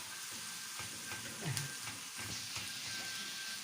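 Onion and minced meat sizzle in a pan with a steady, close, crackling fry that continues throughout, no voices.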